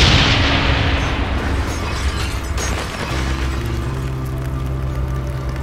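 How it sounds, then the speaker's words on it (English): Napalm strike in Call of Duty Black Ops team deathmatch on the Villa map: a sustained, loud, rumbling roar of explosions and fire that swells and continues steadily throughout, with deep low-end booming. "Napalm strike on the way."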